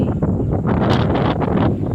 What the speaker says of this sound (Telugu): 100 కిలోమీటర్ల వేగంతో గాలి పెడితే ఎలా ఉంటుంది